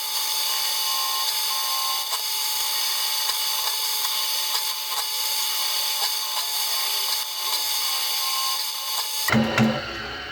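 A power drill boring holes through a guitar body for vintage Stratocaster string ferrules, a steady high-pitched whine that runs unbroken for about nine seconds and then cuts off into a brief rattle.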